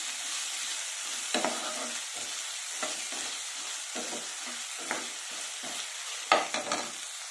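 Green chillies fry in hot oil for a brinjal and green peas curry. A steady low sizzle runs throughout, broken by several sharper scraping knocks as a spatula stirs the pan.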